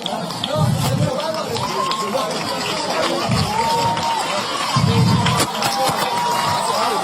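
Teachers and students applaud on a university campus as a prime minister leaves, a steady crowd roar with bursts of clapping and cheering swelling and fading, broad and fairly loud throughout.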